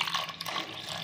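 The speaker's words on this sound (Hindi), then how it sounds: "अब इसमें मैं पानी डाल अभी मैं पानी डालूँगी" Water pours steadily into a besan, yogurt and turmeric batter for pakora kadhi, a continuous faint splashing stream from a half-litre bottle with no talk.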